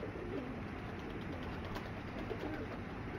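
Slate-coloured fancy pigeons with large tails coo at low volume, mixed into a steady wash of background noise with no clear break.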